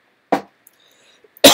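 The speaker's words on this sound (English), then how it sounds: "Excuse my cough." Two short, sharp coughs from one person nearby in a quiet room during a 3D printer kit build, separated by about a second of near silence.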